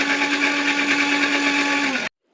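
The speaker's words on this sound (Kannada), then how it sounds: "ಇದನ್ನೆಲ್ಲ ಒಂದು ಮಿಕ್ಸಿಗೆ ಹಾಕೊಂಡು ಗಿರ್ರ ಅನ್ಸೋನು." A kitchen mixer grinder whirs loudly and steadily as it grinds egg curry masala, then cuts off abruptly, leaving near silence and a small click.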